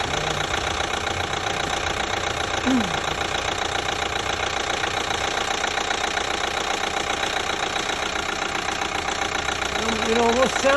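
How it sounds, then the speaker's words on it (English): A 2012 Chevy Equinox with a 2.4L engine idles steadily up close with a fast mechanical ticking, its new timing chain sounding as if it slaps against something, and a voice talks briefly over it. "it almost sounds like the chain is wrapping on something, but it's new"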